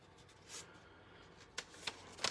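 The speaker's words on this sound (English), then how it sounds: "Always give a fold of the top, and the crease along the side" A paper Melitta coffee filter being folded and creased by hand, with faint, quiet crinkles and a few sharper papery rustles close by, no talking.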